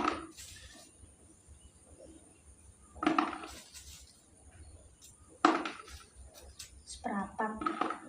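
A stone mortar and pestle (ulek) grinds and knocks on spices for stir-fried tofu in a home kitchen, producing bursts of scraping and pounding between stretches of quiet as someone talks.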